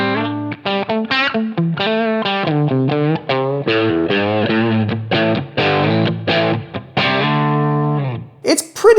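Clean electric guitar with no overdrive, played as a quick melodic line of plucked notes with slight grit, close and alone, ending in a short scrape.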